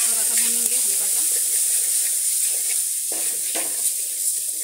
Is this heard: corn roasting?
yes